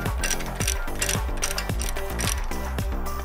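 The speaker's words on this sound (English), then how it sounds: "Finish removing the lower bolt using a ratchet" A hand ratchet clicks rapidly in bursts as it backs out a brake caliper bolt on a Jeep Wrangler, with loud close pawl chatter and short pauses between strokes.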